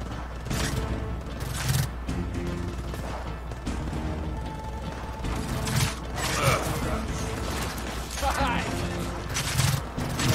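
Rapid, sustained gunfire from a minigun in Gears of War 4, firing in bursts with mechanical whirring and clatter, mixed with game music and effects.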